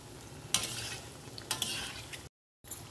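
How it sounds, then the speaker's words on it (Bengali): Red lentil fritters bound with egg fry in hot oil, a steady sizzle broken by two sharp scrapes of a spatula, and the sound cuts out briefly near the end. "বাকি যেগুলো আছে সেগুলো একই রকম ভাবে ভেজে নেব"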